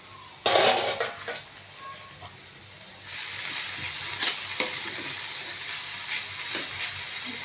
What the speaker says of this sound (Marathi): भाजी शिजत आहे.